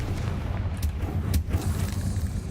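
Confringo explosive spell cast in Hogwarts Legacy, a low rumbling boom that rolls on steadily with a sharp crack in the middle, moderately loud and with no talking.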